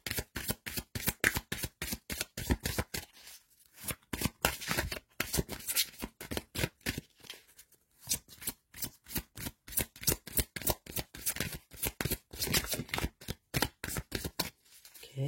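Tarot cards shuffled by hand at close range for a Capricorn monthly reading, crisp repeated riffles and flicks in quick rhythmic bursts with a few short pauses, heard alone without speech.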